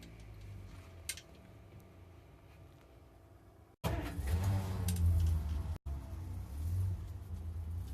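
The starter on a 1953 Hudson Hornet cranks through its long Bendix drive, giving a low, pulsing rumble that lasts about two seconds after a quiet idle-room hush, then briefly continues more softly.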